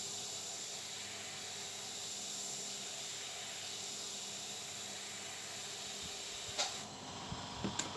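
Spray paint hisses in a steady, close, continuous stream for several seconds, then stops, followed by a few faint clicks and taps.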